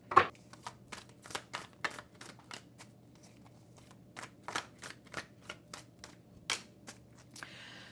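Tarot cards are riffled and shuffled repeatedly in quick, uneven bursts of papery slaps, close and fairly quiet, with no talking.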